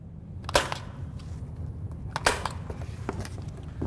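Live pistol fire at an outdoor range with a Vortex Defender-CCW red dot sight: two loud, sharp gunshots about two seconds apart, each followed by a brief echo, with faint smaller cracks and background rumble after.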